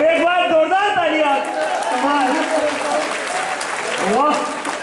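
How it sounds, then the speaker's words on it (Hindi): Applause from the audience at an all-India poets' gathering held at a Mahashivratri fair in Nagda, a steady broadband wash of clapping throughout with a voice talking loudly over it. "एक बार जोरदार तालियां।"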